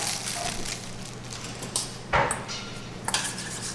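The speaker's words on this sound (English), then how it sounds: "I'll just stir that into the dressing" A utensil scrapes and clinks against a bowl while garlic and ginger are stirred into a dressing, a few light knocks and scrapes close by with no talking.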